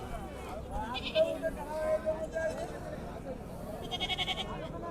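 Goats bleating at the Dubbaka weekly livestock market in Siddipet district, with a few short bleats rising over the busy market chatter and people talking throughout.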